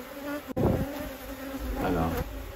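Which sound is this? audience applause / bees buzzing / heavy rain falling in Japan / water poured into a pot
bees buzzing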